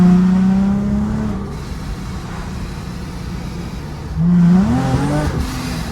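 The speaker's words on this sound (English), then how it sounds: "It allowed me to open and close the flaps in the muffler to make it louder or quieter." A supercharged Lexus IS 350 F Sport with its muffler valves open, heard as a loud exhaust note that rises at the start, settles to a steady drone, then climbs into a second sharp rev near the end. No talking.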